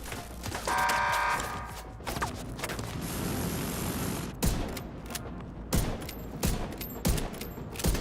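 Gunfire in The Division 2 during a shooter mission: sharp, loud shots crack out irregularly, several spaced bursts over a dense game soundscape of mechanical clatter and ambience, with no talk.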